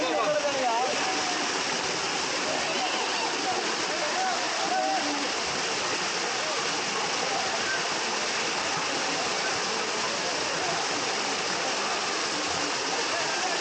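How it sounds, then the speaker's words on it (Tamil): A waterfall pours into a cave-like rock spot at Kovai Kutralam, with a steady, loud, unbroken roar of falling water filling the whole clip from start to finish. "ஒரு கேவ் மாதிரி அந்த இடத்துல தண்ணி விழுகிறது இடம் இருக்குங்க"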